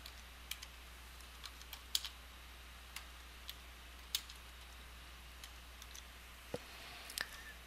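A computer keyboard is tapped in light, scattered keystrokes, quiet and close, with irregular pauses between short bursts of typing.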